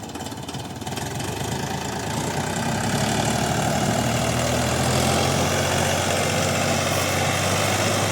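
A DTZ 354U tractor engine runs steadily and loudly while it works a garden plot, a continuous low diesel drone with knocking texture that builds slightly in the first seconds and then holds even.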